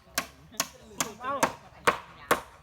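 Hammer blows drive nails into wooden boards while building a wooden house, six sharp, evenly spaced strikes about half a second apart, close and distinct over quiet background.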